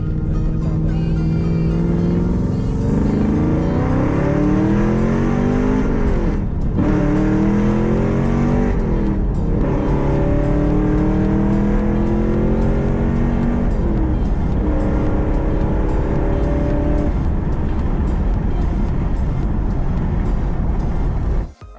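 A 2010 Camaro SS accelerating hard in a full-throttle pull, heard from the dashboard inside the car: loud engine roar rising through several gears, each upshift marked by a brief drop before the pitch climbs again, running steadily for about twenty seconds.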